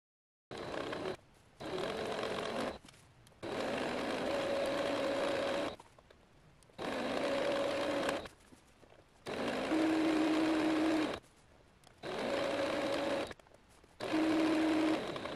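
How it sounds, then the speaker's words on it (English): A sewing machine stitches along the folded hem edge of a skirt liner in seven or so steady whirring bursts, each a few seconds long, separated by short pauses. "sew along the edge with my sewing machine"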